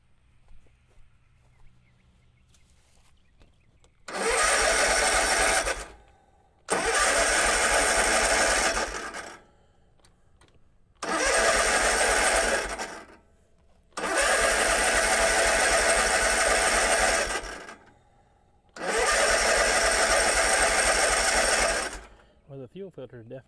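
A Kubota Z122R mower engine with a newly replaced carburetor is cranked over in five long, loud bursts of a few seconds each, with pauses of near silence between them.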